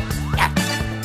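A dog gives a couple of quick, yappy barks close by, short and sharp in succession.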